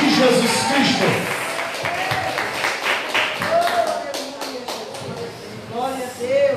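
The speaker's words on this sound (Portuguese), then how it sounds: "Aplauda Jesus, vamos receber a pastora em nome de Jesus Cristo." A church congregation applauding to welcome a pastor during a thanksgiving service, loose clapping from a crowd mixed with voices and singing-like tones, rising again toward the end.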